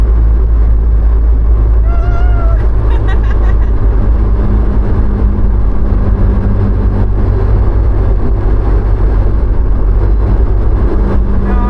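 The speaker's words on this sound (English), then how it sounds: "It does sound like it needs a fifth gear." A Morris Marina Estate with a B-series 1800 engine cruising at 55-60 mph, heard from inside the cabin as a loud, constant low engine drone with road rumble and no change in pitch.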